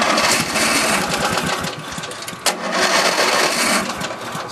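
Old tractor engine cranking and firing up after storage, a loud continuous rough chugging with knocking pulses and a brief sharp break midway, close by with no talk.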